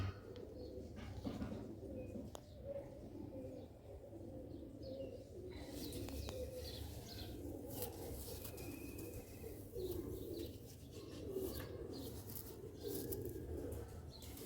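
Pigeons coo at a bird-selling setting, soft low repeated coos mixed with faint chirps and occasional wing flutters, heard quietly throughout against a light background hum.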